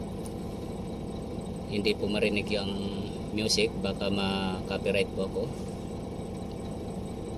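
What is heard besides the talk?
HOWO 420 truck diesel engine idling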